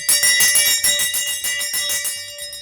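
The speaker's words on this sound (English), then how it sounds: "So, ringing the bell," Bright handbell rings rapidly and repeatedly, a loud metallic jangle with steady rhythm that gradually thins out, no talking.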